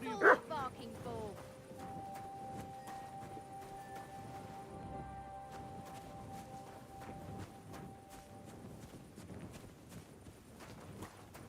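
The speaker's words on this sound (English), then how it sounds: "What's all that barking for?" Dog barking in the medieval video game Kingdom Come Deliverance 2, with repeated barks scattered under almost continuous spoken game dialogue and faint hoof clip-clop.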